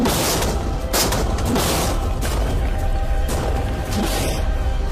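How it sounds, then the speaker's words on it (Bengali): Tanks fire off rapid shots, making a dense, continuous barrage of booms and crashes with bursts recurring every second or so, loud and unbroken for about five seconds. "দেখো, এবার আমরা ট্যাঙ্কগুলো দিয়ে র্যাপিড ফায়ার করব।"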